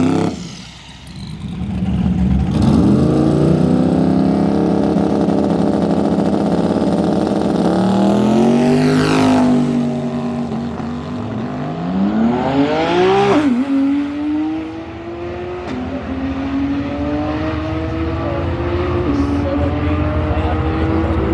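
A street drag car with a new transmission making a pass at the track. The loud engine revs up steadily, drops at a gear shift and climbs again, then holds a sustained roar close by, with no talking.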